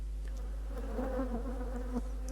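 Breton black honey bees buzzing around an open hive frame, a steady close drone with fluctuating pitch as individual bees pass near, no voices.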